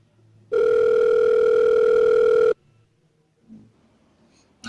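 Telephone tone during a call being placed, a loud steady electronic tone held for about two seconds, then quiet with faint murmurs.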